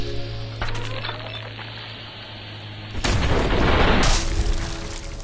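A boom from an explosion bursts in sharply midway, a loud broad rumble that holds for about a second before fading, following a quieter stretch with smaller thumps.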